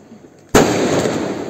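A MORI Haldi 120-shot sky shot fireworks cake is lit and begins firing, a sudden loud burst that turns into a dense, continuous crackling roar.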